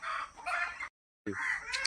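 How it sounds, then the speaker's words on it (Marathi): A rooster perched high on a house roof crows loudly nearby in two bursts separated by a brief silence. "आता हा आमचा कोंबडा बघा किती उंच आमच्या घरावर जाऊन बसला"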